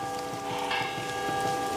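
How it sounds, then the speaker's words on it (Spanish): Soft, steady patter of rain on a surface runs through the stretch at a moderate, even level, with no talking. "Han estado escuchando, aparte de nuestra lluvia acostumbrada en esta transmisión"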